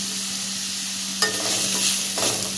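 Onions sauté in a pan with a constant sizzle, and a spatula scrapes and stirs through them in a couple of brief bursts.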